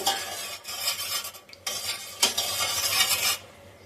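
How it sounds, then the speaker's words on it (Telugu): Spoon stirring a homemade cerelac mixture in a pot, scraping and swishing in uneven strokes with brief pauses, close and fairly quiet, no voices. "ఇలా ఉండలు కట్టకుండా తిప్పుతూ ఉండాలి."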